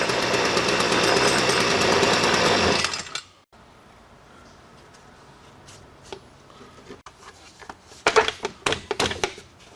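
A STIHL FS45C string trimmer roars loudly at high revs after a carburetor repair, then cuts off abruptly, followed by quiet handling noises and a few sharp knocks and clatters nearby.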